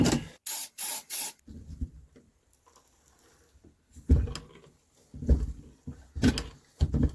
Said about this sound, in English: let me get some carbon choke cleaner in there